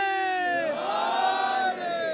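A large religious gathering shouts back in unison after a slogan is called, a loud, sustained massed chant of many voices rising and holding for about two seconds.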